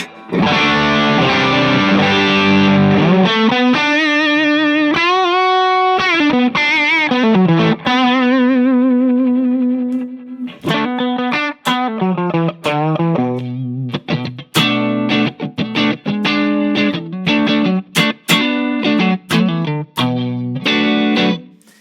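Electric guitar with a heavy distorted tone plays sustained bends and slides, then choppy, rhythmic chords with sharp gaps between strums.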